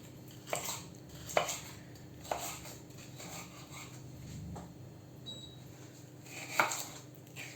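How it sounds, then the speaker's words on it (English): A knife dicing a green and red bell pepper on a cutting board, giving a handful of sparse, separate chops with quiet gaps between them. "I'm going to be dicing this as well in this shape."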